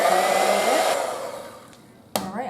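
An electric mixer runs on low speed through a peanut butter cream cookie mixture, a steady close whir that fades and slows toward the end before a brief clatter and a restart.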